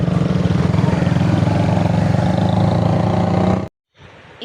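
Motorbike ride to the market on a hot day, a steady mid-pitched engine drone with rumbling wind noise, close and loud, cutting off abruptly near the end to a quieter background.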